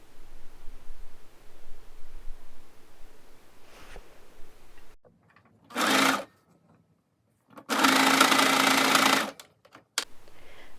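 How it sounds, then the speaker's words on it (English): A sewing machine stitches the sleeves of a thrifted hoodie in two close, loud bursts: a short run, then a longer steady whir, separated by quiet handling noise. "now you're just going to sew across both of those sides."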